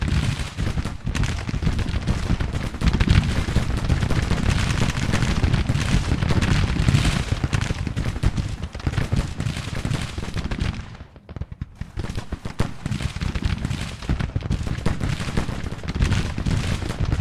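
Civil War musket volleys and artillery from Confederate Baton Rouge troops firing out of woods in a strategy game: a dense, continuous crackle of rifle fire with deep booms, steady and loud, briefly dipping near the middle before resuming.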